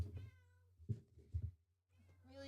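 A house cat meows several times in short, fairly quiet calls with gaps between them, heard close to the microphone with no talking.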